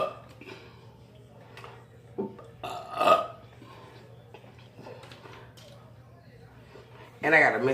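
A woman burps a couple of times during a burping challenge, with one louder burp standing out, and she talks between them.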